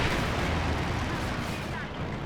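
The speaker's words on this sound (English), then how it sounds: "Airstrike coming in." Airstrike explosions in Company of Heroes 2 boom in a dense, rumbling burst that fills the short moment, heavy and continuous with a fading tail, over a voice talking.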